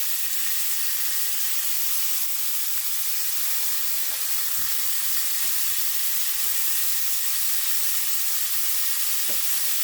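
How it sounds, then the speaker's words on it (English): Two sticks of unsalted butter sizzle in a pan beside a T-bone steak, giving off a loud, continuous hiss with a few faint knocks from the pan underneath. "I'm going to add 2 sticks of butter. That's unsalted butter."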